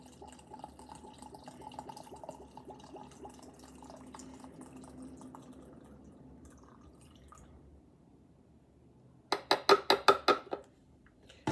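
Vodka pours into a glass jar in a close, gurgling run of about six quick glugs, preceded by quiet background sounds.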